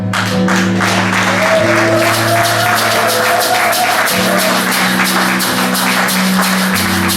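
A church congregation claps and cheers in acclamation during worship, continuous loud applause with sustained musical tones from instruments underneath.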